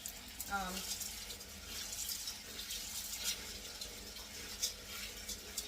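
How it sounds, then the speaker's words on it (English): Water poured over dry pinto beans in a pot and swirled around, a quiet, close splashing and sloshing that stays soft and continuous throughout. "I'm going to put a little water on these beans. I'm going to slosh them around a little bit"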